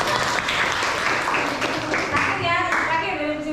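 Children clap together in a classroom game, rhythmic bursts of hand claps filling the room loudly and close, with a teacher's voice and kids' chatter mixed in.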